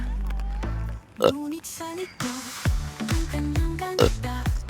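Several abrupt hiccups jolt a person's voiced sounds and short vocalisations on Fortune Island, spaced irregularly across a few seconds and heard up close.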